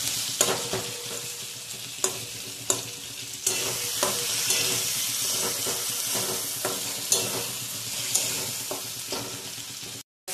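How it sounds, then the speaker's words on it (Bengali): Spice masala with turmeric powder frying in oil for a fish dish, a steady sizzle broken by regular scraping strokes of a spatula stirring the pan, close up. "একটু হলুদ গুঁড়ো দিয়ে দেবেন। ভালো করে কষিয়ে নিতে হবে।"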